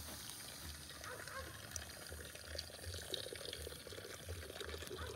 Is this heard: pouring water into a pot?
yes